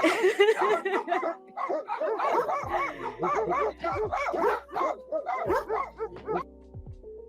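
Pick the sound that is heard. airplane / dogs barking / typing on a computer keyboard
dogs barking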